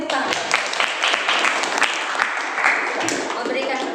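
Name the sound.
classroom applause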